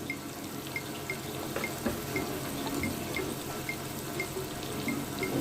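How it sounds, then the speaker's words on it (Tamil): Water runs steadily from a tap while cooking paneer biryani, with soft drips and splashes into a container, close by and continuous, no talking. "நம்ம இதில் இப்போது அந்த தண்ணியை ஊற்றுவோம்"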